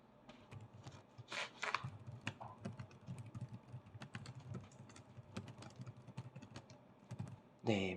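Computer keyboard typing in a quiet indoor setting, irregular clusters of soft key taps with a few louder bursts and short pauses, close and alone without talk.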